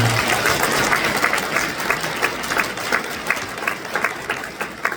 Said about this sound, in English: So give a round of applause to your peers, your colleagues in this room.